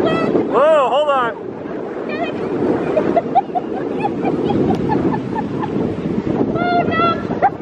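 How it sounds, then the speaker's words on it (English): Wind buffets the microphone outdoors at a resort pool area in a constant rough rumble, with excited voices and a child's squeal heard over it. "Oh, look at the wind!"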